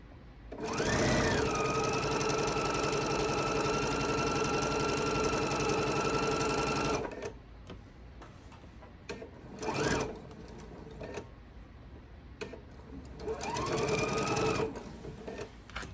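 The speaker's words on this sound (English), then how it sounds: "Now I'm going to sew a 1/4 inch on the other side." A sewing machine stitches a quarter-inch seam on quilt block pieces, running loud and steady for several seconds, then stopping and starting again in shorter bursts, close by with no talking.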